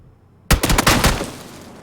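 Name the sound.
gunshots in the video game PUBG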